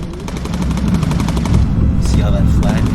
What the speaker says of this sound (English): See all that flak?